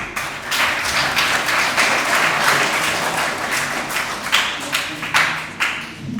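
An audience at a school student event applauds, a dense, steady wash of clapping with a few louder individual claps standing out toward the end.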